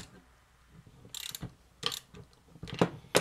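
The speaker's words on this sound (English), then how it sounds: "Four washers. And four nuts. I'm gonna tighten these down a bit." Nuts are tightened down onto washers while a ham radio go box is assembled, producing a few short bursts of clicking, ratchet-like metal turning separated by quiet gaps.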